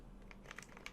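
Quiet keystrokes on a computer keyboard as a web address is typed, a few soft, irregular clicks close to the mic.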